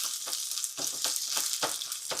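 Curry leaves fry in hot oil in a pan while making kozhiyada, a continuous bright sizzle that swells in rhythmic bursts as they are stirred, close and loud with no talking.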